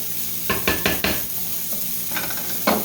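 Sausage browns in a pan for spaghetti pie, with a soft background sizzle broken by several sharp utensil scrapes and knocks against the pan.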